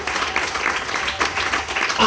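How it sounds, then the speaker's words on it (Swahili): A church congregation claps steadily for a pastor, with scattered voices mixed in, the applause loud and continuous throughout. "Pigeni yeye makofi."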